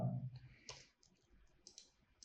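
A computer mouse gives a few faint, sharp clicks, scattered one or two at a time, in a quiet room after a brief low sound at the start.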